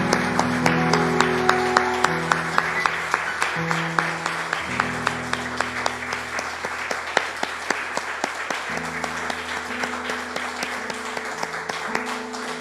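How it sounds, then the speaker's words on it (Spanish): A church congregation claps together during a worship service, a steady patter of many hands with sustained music or tones underneath throughout. "Le damos un aplauso al Señor"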